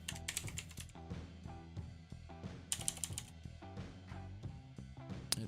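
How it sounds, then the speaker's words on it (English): Typing on a computer keyboard during setup of OBS Studio 32.1.0 Beta 2 on a dual-CPU Xeon machine, with bursts of quick clicking keystrokes in irregular clusters against a dense, steady background of music, fairly close and clear. "Again, using the wrong keyboard."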